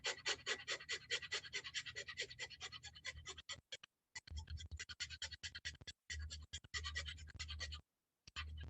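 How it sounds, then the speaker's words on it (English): Rapid, rhythmic breaths forced in and out during a fast breathing exercise, close and soft, with quick regular puffs that break into short pauses and irregular bursts toward the end. "So, this is a type of breathing that's kind of fast. So, if you look, my breath is going to go like this."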